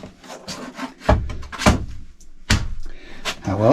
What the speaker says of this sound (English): There's the first piece, and I'm just going to slide it up